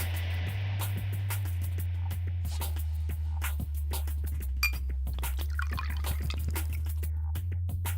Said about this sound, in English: Another servant poured wine into Akira's glass.